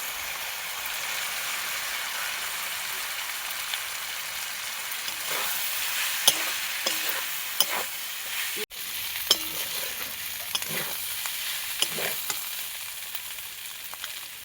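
Clams fry in a spice masala with a steady, airy sizzle, broken by sharp scrapes and clicks as a utensil stirs them now and then.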